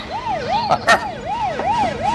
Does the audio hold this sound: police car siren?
yes